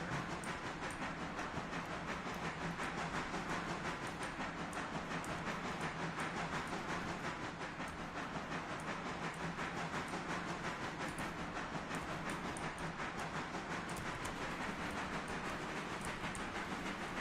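Railroad train rolling steadily on the rails, a continuous broad rumble and hiss with faint clickety-clack, fairly distant and even throughout with no voices.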